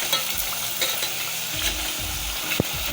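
Potatoes frying in hot oil until crispy, with a steady close sizzle and occasional stirring clatter, continuous and fairly loud with no talking.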